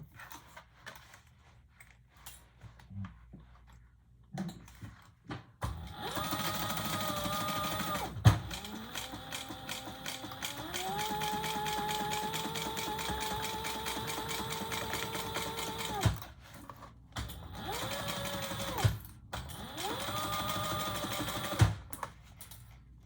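A sewing machine stitches a bag seam in bursts, its motor whirring steadily with rapid needle clatter, pausing briefly and restarting for a final shorter run, heard up close without talk.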